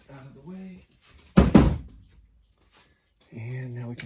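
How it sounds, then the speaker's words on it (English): A Husky 28-inch wall cabinet's front door is unlocked and swung open, making one short, solid thunk with a brief rattle. A voice talks before and after it. "We're going to have to unlock that front door."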